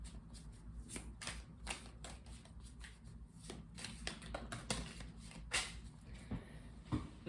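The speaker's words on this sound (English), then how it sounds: "We're going to pull some tarot from the Gilded Tarot Royale deck" A Gilded Tarot Royale tarot deck is shuffled by hand in quick riffling bursts, crisp card flutters and slaps repeating close to the listener at a soft, steady level.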